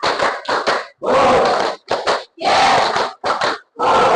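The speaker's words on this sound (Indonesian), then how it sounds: "tepuk tangan untuk kita semua" A class of children claps in bursts of rhythmic group clapping, loud and close, with short pauses between the bursts and some shouting mixed in.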